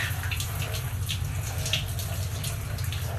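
Water poured over a sulcata tortoise during a rinse, a steady close splashing and trickling stream that runs without a break.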